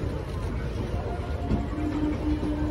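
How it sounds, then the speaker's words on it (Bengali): Inside the Kashi Vishwanath Express, a steady loud rumble of the moving train fills the clip with faint rhythmic rail noise and a brief tonal squeal near the end. "আর এখন আমরা যেটাতে ভ্রমণ করতেছি সেটা হচ্ছে কাশী বিশ্বনাথ এক্সপ্রেস।"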